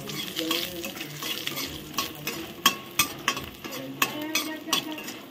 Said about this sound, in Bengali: বড়িগুলো এখন ভেজে নিচ্ছি।